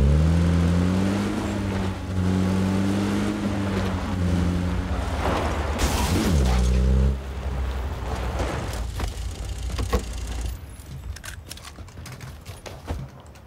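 A car engine in PUBG: Battlegrounds revs loudly with droning, shifting tones, then fades into rougher, clattering mechanical noise.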